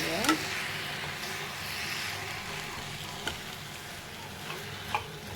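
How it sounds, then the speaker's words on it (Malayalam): Snack ingredients get stirred and mixed together in a hot pan on the stove, with a soft continuous sizzle and occasional sharp scrapes and clinks of the spoon against the pan. "ഇതെല്ലാം കൂടെ നന്നായി മിക്സ് ചെയ്യുക."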